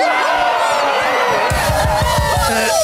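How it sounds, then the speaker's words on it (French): A festival crowd cheers and whoops, swelling louder halfway through with rhythmic clapping and yelling, a busy roar of many voices. "Applaudissez bien fort les Papa Pops."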